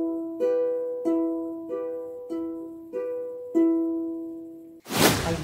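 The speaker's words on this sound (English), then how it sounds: "let's do a finger picking pattern, one that I call 3 versus C." Ukulele fingerpicking in a '3 versus C' pattern: six evenly spaced plucked chords ring out clearly and decay between each, alone with no talking, ending in a brief burst of noise.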